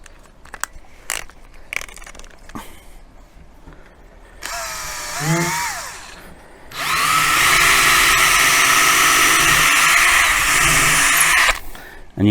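A power drill drives a screw into MDF inside a rebate while a baby-room wardrobe is built. A few sharp taps come first, then a short rising whir and a long, loud, steady drilling burst up close.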